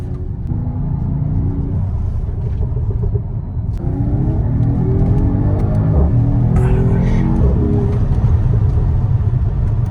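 Mercedes-AMG GT 4-door engine in Sport Plus mode, heard loud and close from inside the car: a deep, continuous rumble whose pitch climbs in rising sweeps partway through and again near the end.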